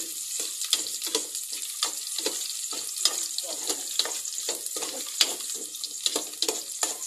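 Onion and garlic fry in a pan with a soft, steady sizzle punctuated by repeated light stirring scrapes, fairly quiet and close.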